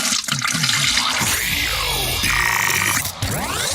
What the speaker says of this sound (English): This show is almost as enjoyable as hearing the sound of the toilet flush.